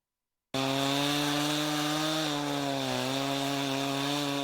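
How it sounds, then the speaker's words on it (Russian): Rescuers run a petrol chainsaw to cut blocks of ice on Soldatskoye Lake in winter, a loud, steady, close engine whine that starts abruptly and holds for several seconds with slight pitch dips, with no talking. "Вооружившись бензопилой, спасатели пилят лед на Солдатском озере."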